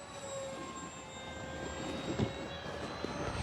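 An FMS T-28 Trojan 800mm RC model airplane flies overhead, its steady electric motor whine holding for several seconds at moderate distance, with a few faint bumps partway through.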